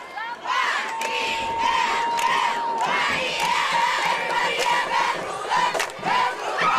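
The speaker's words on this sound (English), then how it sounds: "So you can hear the Gula fans chanting in the background." At a 2019 high school football game, Pascagoula fans in the stands chant and shout loudly in rising and falling waves, with whoops and cheers from a dense crowd throughout.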